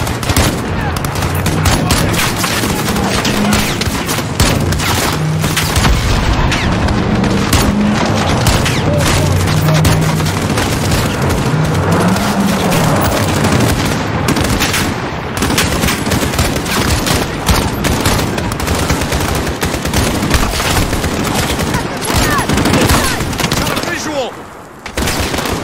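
Sustained, dense gunfire with automatic bursts and booming explosions fills a Call of Duty Modern Warfare battle, loud and continuous throughout, with a brief dip near the end and shouted voices faintly mixed into the din.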